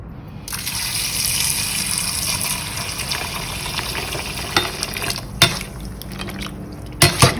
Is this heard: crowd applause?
no